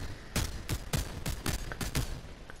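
Turret fire in the Fortnite video game: a rapid burst of about eight loud, sharp shots in an uneven rhythm, close and heavy, with no talk over it.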